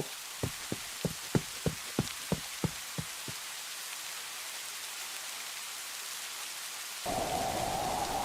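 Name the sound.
rain and thunderstorm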